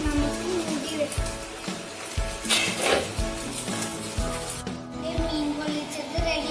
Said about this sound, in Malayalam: ഇനി നമുക്ക് ചൂടുള്ള എണ്ണയിലേക്ക് ഇട്ട് കൊടുക്കാം.